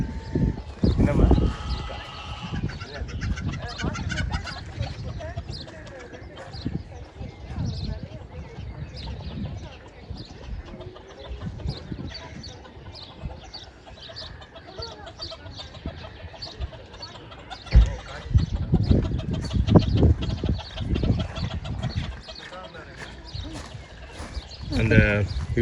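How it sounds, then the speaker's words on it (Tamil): Chickens cluck on a farm near London, intermittent clucks mixed with scuffling, footsteps and handling noise, loud bursts near the start and end, with bits of talk. "எல்லா கோழியும் வெளில வந்துட்டு இருக்கு பாரு."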